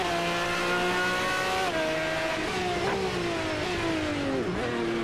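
A Lamborghini racing car in Automobilista 2 braking late into a corner, engine note dropping through downshifts with blips, steady loud engine drone throughout.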